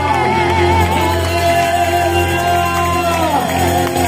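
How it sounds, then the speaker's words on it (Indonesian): A large church congregation claps and cheers loudly and continuously during a worship service, with shouts and whoops rising over sustained music. "beri tepuk tangan bagi anak kita"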